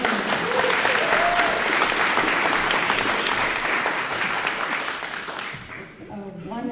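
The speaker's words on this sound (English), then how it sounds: "let's all give these candidates a round of applause for putting their names in" An audience at a municipal all-candidates forum gives the election candidates a sustained round of applause, dense clapping that fades near the end as a voice begins speaking.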